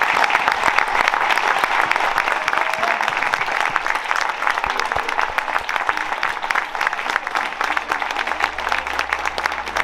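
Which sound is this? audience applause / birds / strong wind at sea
audience applause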